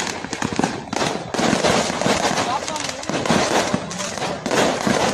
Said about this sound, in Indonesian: saling serang dan saling tembak menggunakan petasan antara dua kelompok remaja